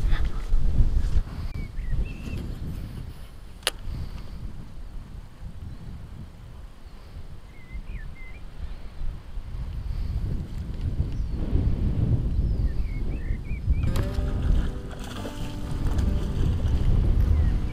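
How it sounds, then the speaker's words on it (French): Strong wind gusting and buffeting the microphone on an open boat while pike fishing in Ireland, a steady rushing roar with water lapping against the hull and no talk. "T'as vu le vent qu'il y a en plus?"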